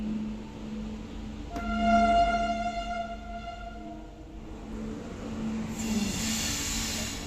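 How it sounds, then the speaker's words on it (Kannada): A train passes nearby, its steady rumble joined by a sustained metallic wheel squeal that holds for a few seconds, then fades into hissing rail noise as the cars roll on. "ಟ್ರೈನ್ ಹೋಗ್ತೈತೆ."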